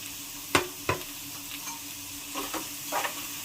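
A spoon stirs goat tripe (boti) with turmeric in a pan, giving a few scraping knocks and clinks over a steady background hiss, near and fairly quiet.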